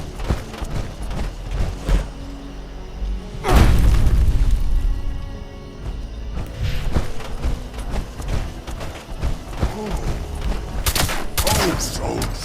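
Orbital strike explosions in Fallout 76 land as repeated booms and crackling blasts, one heavy rumbling impact standing out among a dense barrage of gunfire-like bursts.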